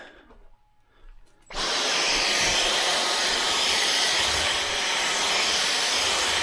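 A Dyson vacuum cleaner in a home renovation setting starts up after a second or so of quiet handling noises, then runs as a loud, steady whooshing roar until the end.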